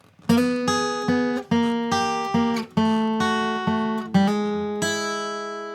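A slow blues lick on acoustic guitar at a beginner's pace: a series of distinct plucked notes, each ringing and decaying before the next, a few with a quick grace-note hammer-on, played close and alone without talk.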